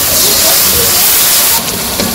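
Spice paste of turmeric and dried chili fries in a pan for village-style chicken, a loud, close, steady sizzling hiss that eases slightly near the end.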